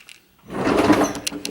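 A kitchen drawer holding essential oils slides open with a short close scraping rattle, a few small knocks of bottles shifting inside.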